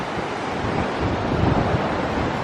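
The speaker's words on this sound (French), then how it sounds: "les vagues, tout à l'heure on était dedans, mais elles ont une puissance" Powerful ocean surf rolls in on a Sunshine Coast beach near a tall lighthouse in Queensland, a loud continuous roar of breaking waves mixed with buffeting wind noise and no voices.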